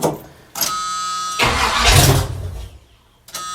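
A 1979 Chevrolet K20 square body truck engine cranks and catches, a loud broadband roar that swells for about a second and a half, then drops away before a brief restart burst at the end.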